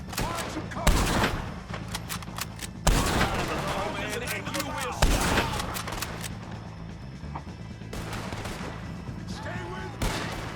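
A Red Dead Redemption 2 shootout fills the air with repeated loud gunshots, several heavy cracks and rapid bursts echoing over a constant ambient bed, while voices shout between the shots.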